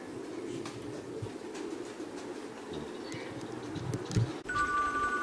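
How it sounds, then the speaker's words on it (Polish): Soft coos and fluttering of racing pigeons arriving at their loft, amid a low rumble of background noise, with a faint bell-like tone near the end. "Sobie te ptaszki przylatują."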